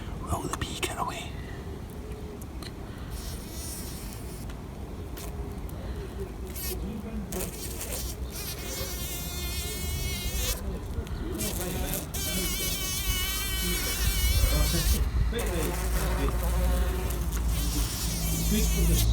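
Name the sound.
buzzing bee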